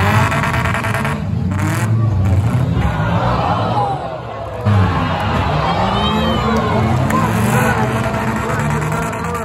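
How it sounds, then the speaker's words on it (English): A loud car engine revs hard close by while a crowd cheers and shouts around it, with voices talking through the noise and the roar surging again midway. "Loudest car out."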